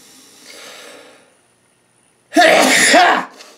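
A person sneezes: a soft intake of breath, a brief pause, then one loud explosive sneeze close to the microphone.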